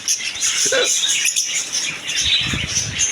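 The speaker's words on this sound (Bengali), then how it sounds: "ঝর্না ককাটিল আর গেরে ককাটিলের জোড়া" Pairs of grey and other cockatiels in a home aviary keep up a dense, shrill twittering, with a brief flutter of wings and soft rustles underneath, steady and fairly close.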